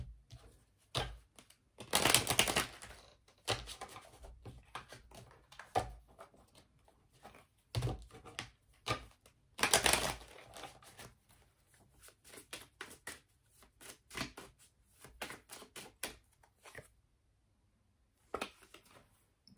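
Tarot cards shuffled and drawn in bursts: two dense riffling shuffles stand out among many soft, separate card slaps and taps, close and quiet, with pauses between and no voice.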